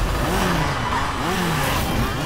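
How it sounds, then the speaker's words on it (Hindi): Several motorcycles approach a village, a steady engine roar with rising revs and a sweeping drone that stays loud and close throughout, with no speech over it. "ये आवाज किसकी? बाइक्स की है।"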